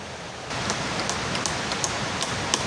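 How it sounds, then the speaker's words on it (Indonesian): Heavy rain pours steadily onto a forest, a dense, loud hiss that swells after a brief quieter start, with scattered sharper drops standing out throughout. "Tiba-tiba, hujan deras turun mengguyur hutan ini."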